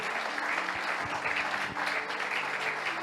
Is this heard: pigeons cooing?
no